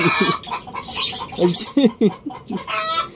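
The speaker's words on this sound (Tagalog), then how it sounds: "Yung manok sumali pa eh." Chicken clucking in short, repeated bursts close by, with bright chirpy calls scattered over a steady background hiss.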